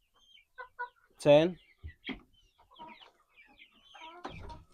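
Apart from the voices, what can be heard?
chickens clucking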